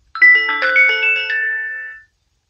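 The third ringtone of an AOSU wireless video doorbell base station: one loud, bright electronic ding-dong chime of a few stacked tones that ring out briefly and fade, alone in silence.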